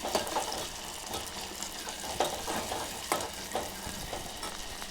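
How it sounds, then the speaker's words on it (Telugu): Onion and green chillies frying in oil for an aloo masala curry, with a dense, continuous sizzle and crackle broken by the scrape of stirring, close and steady. "మంచిగా వేగాలి ఉల్లిగడ్డ పచ్చిమిర్చి మంచిగా వేగాలి"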